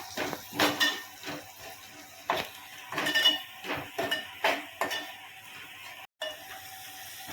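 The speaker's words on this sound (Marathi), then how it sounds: "हे छान मिश्रण असं हलवून घेऊया, आपण एकजीव करून घेऊया" A spoon scrapes and clinks against a pan while stirring a Konkani-style chicken liver masala mixture with garam masala and coriander-cumin powder, in repeated close metallic taps and rubs with brief pauses between strokes.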